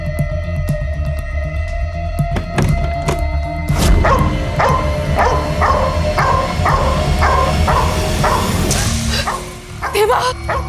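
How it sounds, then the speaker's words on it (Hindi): A dog barks repeatedly in a steady run of loud, evenly spaced barks over a constant background hum, with people talking at times. "वानी, वानी कुत्ते, वानी मेरे को सहन नहीं होता ये, वानी मेरे को बहुत डर लगता है।"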